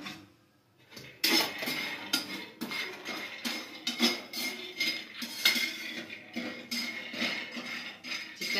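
Poppy seeds being dry-roasted in a pan, with a spoon stirring and scraping against the metal in steady, uneven clinks and rattles, close and fairly quiet.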